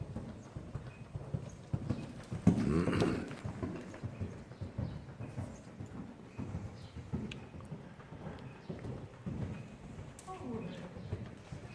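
Horse cantering during a riding lesson, rhythmic hoofbeats on the arena surface with a louder burst near the start, while an instructor talks over them throughout.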